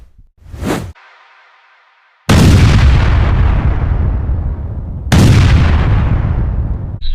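Gunfire from a gun fired outdoors: a short sharp shot, then after a pause two heavy, booming blasts, each one loud and close, with a long rumbling tail that fades slowly.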